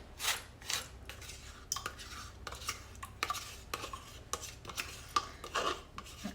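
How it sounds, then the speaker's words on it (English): Bananas being stirred into custard in a bowl, giving repeated scraping and clinking of a spoon against the dish in uneven strokes, close and moderately quiet with no talking. "now we're just going to stir in the bananas and custard"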